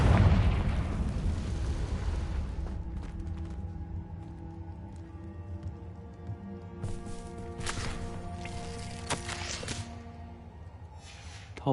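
A heavy spell explosion from a wizarding video game opens loud and rumbling, then decays into ringing tonal debris with scattered crackles and sharp bursts, no speech.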